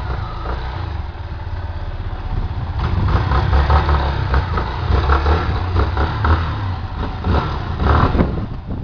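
A 2013 flex-fuel motorcycle engine idles and then revs in several rough surges, loud and close, with a throaty low rumble throughout.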